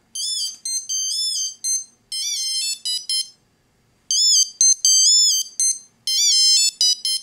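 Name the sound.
Wistiki Voilà by Starck key finder ringing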